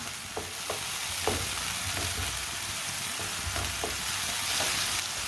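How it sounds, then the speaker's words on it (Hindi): A radish and tomato mixture cooking in a pan while a spoon stirs it, giving continuous loud sizzling with several soft spoon scrapes spaced through it and no talk. "ऐसे ही चम्मच चलाते हुए पकाना।"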